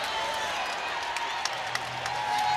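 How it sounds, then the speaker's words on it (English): Applause and crowd murmur filling an arena at an ACC women's college basketball game between Boston College and Florida State, a steady, even wash of clapping with no voices on top. "Avery Treadwell came down with the rebound and the crowd applauded"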